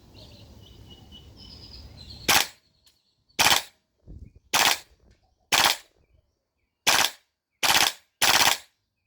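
Airsoft gun on an HPA adapter fires on full auto in seven short, loud bursts separated by pauses of about a second, each burst a rapid buzzing stream of shots, with faint background hiss before the first.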